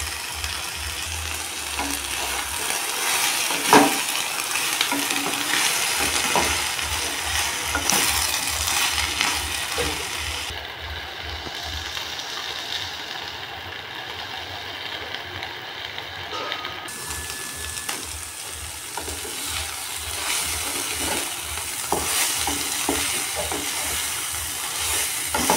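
Cut elephant foot yam frying in spice paste, a continuous hiss and sizzle with scattered clinks and scrapes of stirring over a rhythmic low mechanical thumping, steady and close.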